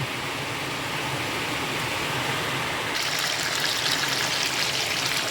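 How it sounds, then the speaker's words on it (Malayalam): Steady rain hissing continuously throughout, growing brighter and denser partway through, with no voices. "ഇവിടെ നന്നായിട്ട് മഴയും പെയ്യുന്നുണ്ട് അതിൻ്റെ ശബ്ദമൊക്കെ ഇതിൽ കയറി വരുന്നുണ്ട്"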